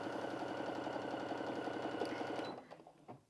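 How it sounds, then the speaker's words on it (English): Brother Innov-is A50 sewing machine stitching a row at a fast, even rhythm, close and steady, then slowing and stopping with a few mechanical clicks at the end. "Carry on with your row of stitching."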